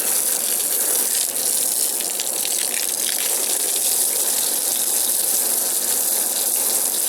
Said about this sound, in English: Want to make sure I spray it down real good